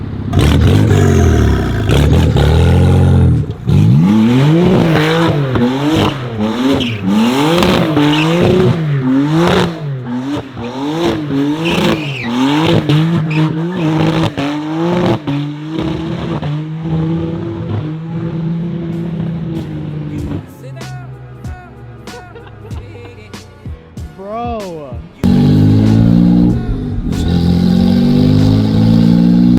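A BMW E46 M3 drift car with no exhaust fitted, running straight from the headers, revs hard in repeated loud, raspy bursts that climb and fall, with clattering mechanical noise and a brief spoken word.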